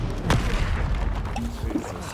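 A Confringo blast spell goes off in Hogwarts Legacy as a loud, booming burst with a sharp initial crack, followed by rumbling game noise.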